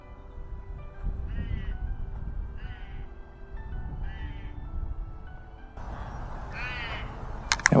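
Birds call outdoors near the ruins of a First World War army camp, a few clear separate calls repeating at intervals over faint background noise, with no talking.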